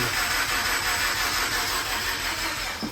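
A 13B rotary engine swapped into a Subaru BRZ, cranking over at its first start-up attempt: a loud, even, continuous churning drone held close for the whole stretch, with no voices.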